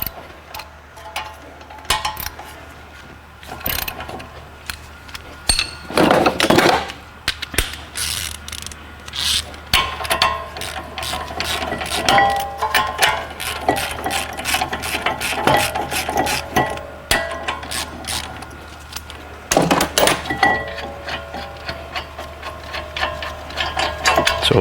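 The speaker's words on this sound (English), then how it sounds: "So now we're gonna undo these two 21mm bolts so we can remove the caliper bracket." A ratchet wrench clicks repeatedly while undoing the 21mm caliper bracket bolts on a Dodge Journey brake job, with bursts of rapid ratcheting, metallic clanks and pauses between.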